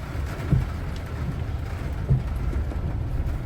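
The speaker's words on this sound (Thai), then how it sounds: "ฝนตกวันนี้ก็ฝนตกหนักแล้ว" Steady heavy rain hisses throughout a storm in Vientiane, Laos, heard from a moving car, with a low rumbling background and a couple of brief thumps breaking through.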